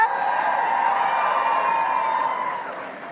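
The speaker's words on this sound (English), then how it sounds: "That's right, y'all, hand clap yourselves." A crowd at an election night victory rally cheers and whoops, a sustained roar of voices that holds steady and then fades toward the end.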